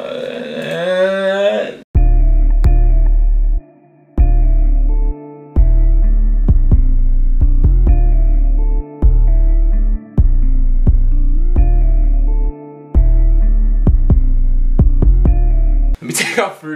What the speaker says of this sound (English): we are going to get a kick because I need more presence from this 808